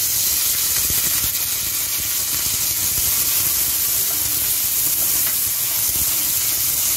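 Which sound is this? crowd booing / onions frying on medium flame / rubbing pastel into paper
onions frying on medium flame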